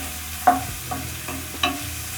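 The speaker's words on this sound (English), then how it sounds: "I'm going to saute my onion" One medium onion sautéing in a pan for vegetable spring rolls, with a steady close sizzle and a few brief utensil strokes and taps over about two seconds, no voices.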